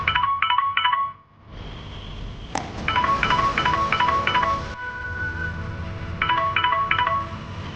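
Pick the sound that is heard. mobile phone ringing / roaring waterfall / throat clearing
mobile phone ringing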